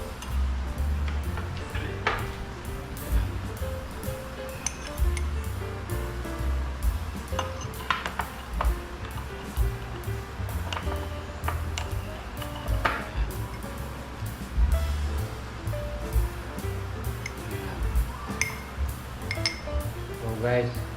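A ladle scoops sago into a taho cup, with repeated light clinks and taps of utensils against cups and pots, while someone talks throughout.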